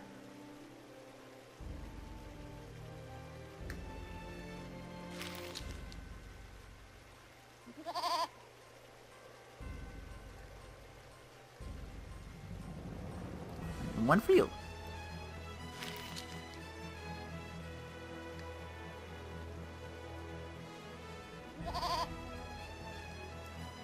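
Goats bleat in the video game Eternal Sonata, several short nasal cries spaced across a quiet game soundtrack, interleaved with characters speaking dialogue.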